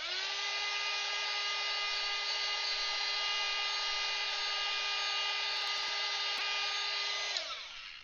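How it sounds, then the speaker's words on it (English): A hair dryer blows with a steady, loud whirring hum for several seconds while drying Caran d'Ache NeoColor II artwork, then clicks off near the end. "I'm just going to take my blow dryer and blow dry this a little bit."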